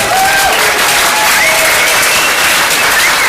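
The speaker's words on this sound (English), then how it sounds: "Thank you for that applause" A crowd applauds steadily, a dense wash of clapping that stays loud and continuous throughout.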